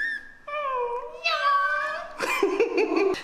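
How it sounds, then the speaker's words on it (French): Kittens meow in a run of high, drawn-out cries, several overlapping calls rising and wavering close by, loud and clear without talk. "J'ai pris des petits chatons pour amadouer les filles."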